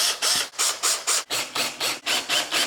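Screws are driven back into the airbox of a Yamaha FZ07 motorcycle, giving nine rapid, evenly spaced squealing whirs from a close power driver with short gaps between them.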